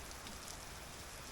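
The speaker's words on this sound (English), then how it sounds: "it is raining really heavy" Heavy rain pours down steadily during catfish fishing, a dense, loud, unbroken hiss with no voices.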